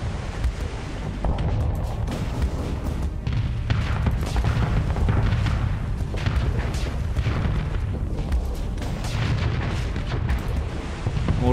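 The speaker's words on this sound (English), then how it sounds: "Let's use the micro missiles." Micro missiles launching in the space combat game Starsector, a dense, continuous barrage of booming, crackling explosions and rapid firing impacts, loud and unbroken throughout.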